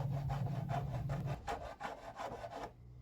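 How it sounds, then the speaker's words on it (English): Hand planing and sanding on exterior-grade plywood gives a rhythmic series of close, scraping strokes, about eight in a row at an even pace, with a low hum underneath at first. No one speaks. "let's watch me planing and sanding for a bit."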